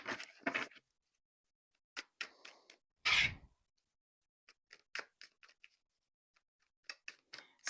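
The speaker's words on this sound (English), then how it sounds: "Let me shuffle one more time." Tarot cards shuffled by hand make soft, scattered riffles and taps, with one louder flurry in the middle and quiet gaps between the bursts. No voices are heard.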